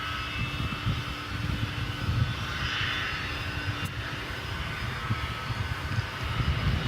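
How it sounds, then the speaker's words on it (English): An MD-11 airliner revs its engines before takeoff at DFW airport at night, a steady broadband roar with a faint whine heard from a distance, continuous and unchanging throughout. "you may be able to hear revving up in the background the MD-11, which is getting ready to roll."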